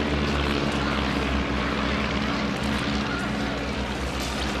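Stampe biplanes of a formation team flying at the Eastbourne Airshow, their propeller engines making a loud, steady drone throughout with no voices.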